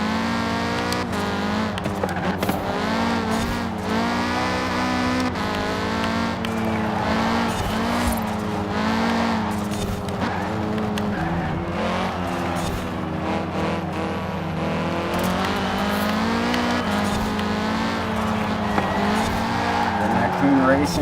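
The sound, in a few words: Audi TTS Coupe racing, video game Forza Horizon 4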